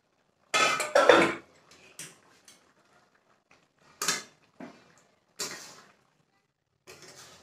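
Chunks of potato tumble into a cooking pot of meat and cabbage, a loud clattering burst followed by a few sparser knocks and scrapes with quiet gaps between.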